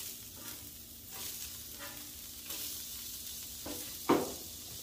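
Smash burger patties sizzle on a Blackstone griddle while a spatula scrapes and flips them. A steady hiss is broken by several sharp scraping swipes, ending in one louder clack.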